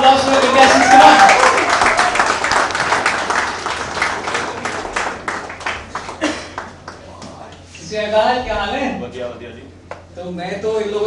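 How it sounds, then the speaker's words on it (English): A studio audience claps for contestants on a televised talent-show stage, a dense burst of applause filling the first several seconds before fading under a host's speech. "A huge round of applause for the contestants."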